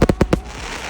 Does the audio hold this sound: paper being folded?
no